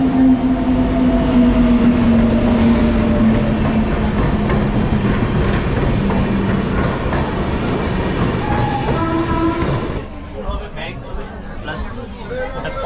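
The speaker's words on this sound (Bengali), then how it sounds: "ট্রেন আসছে" The 12857 Tamralipta Express from Howrah to Digha pulls into Santragachi station with a loud, steady rumble and sustained horn tones, then the noise drops to a quieter clatter near the end, with voices heard underneath.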